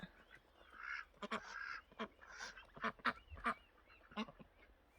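Ducks kept by a Thai villager raising them abroad give repeated honking quacks in irregular bursts, fairly close, over a low background hum with no talk.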